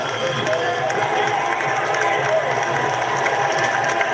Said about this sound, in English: Listen to the warm applause as he makes his way back